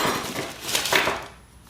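Metal ABS ring for an Indian Scout motorcycle wheel handled during assembly, giving a short run of clinks and clanks, close and fairly loud, fading to quiet at the end.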